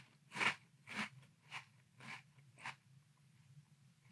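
Ghost Protein Lucky Charms cereal soaked in milk is chewed close up, with five or six distinct crunchy bites in a slowing rhythm over a low steady hum, and no talking.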